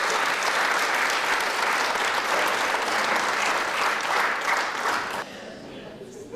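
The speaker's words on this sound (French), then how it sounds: "On va les applaudir aussi." Audience at a debate in Molenbeek breaks into sustained applause, a dense, even wash of clapping that holds steady for about five seconds before dropping off abruptly to quieter room sound.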